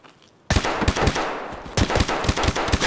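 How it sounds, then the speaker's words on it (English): Loud, close automatic gunfire from the shooter game Escape from Tarkov erupts suddenly after a quiet moment, two rapid sustained bursts of sharp shots with no talking. "I'm getting shot at."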